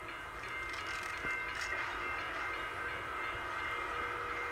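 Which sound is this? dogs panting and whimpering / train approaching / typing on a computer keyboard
train approaching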